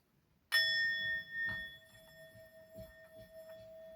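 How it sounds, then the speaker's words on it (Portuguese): A single struck Tibetan singing bowl rings out with a bright, sustained tone that slowly fades, with faint soft knocks beneath. "O meu sino tibetano, que é outra coisa que eu sou apaixonada."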